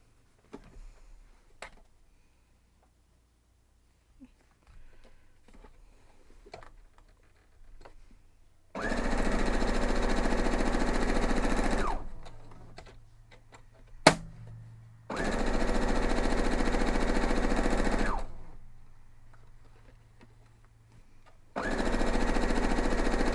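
A sewing machine stitches a quilt block in three separate bursts of steady, fast mechanical whirring, each lasting a few seconds, with quiet handling clicks and rustling between runs.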